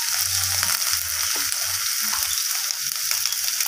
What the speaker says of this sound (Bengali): বেগুনটাকে দেওয়ার পর আলু পেঁপের সাথে নাড়াচাড়া করে ভেজে নিতে হবে।